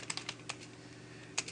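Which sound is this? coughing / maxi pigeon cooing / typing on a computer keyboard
typing on a computer keyboard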